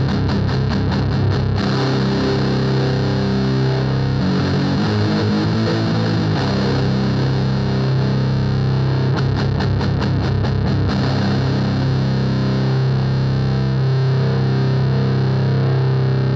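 A metal guitar played through a Sondery metal distortion pedal in turbo mode, loud and saturated, with fast chugging palm-muted riffs and sustained heavy chords rumbling continuously without any talk.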